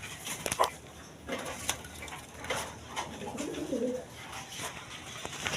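A pair of blackless shirting pigeons cooing at a pigeon farm, soft repeated coos close by over a faint background of rustling and other birds.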